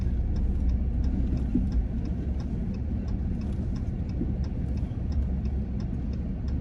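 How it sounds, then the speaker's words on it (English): A hotshot pickup truck idles steadily while backing a trailer into a parking spot, a constant low engine rumble with a faint rhythmic ticking, close and without talk. "I gotta back up in this parking spot."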